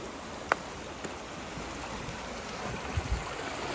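A river runs through the Medway Valley Heritage Forest in Ontario, making a steady, broad rush of water that fills the whole stretch, with a few faint knocks and bumps over it and no talk.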